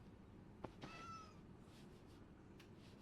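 Gary the snail from SpongeBob gives a single short cat-like meow, faint and thin over a steady background hum.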